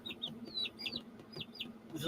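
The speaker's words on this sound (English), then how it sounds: "This is my barred rock cockerel." Young barred rock cockerel, 16 days old, giving high chirpy peeps and soft clucks in quick bursts close by, over a low steady background hum.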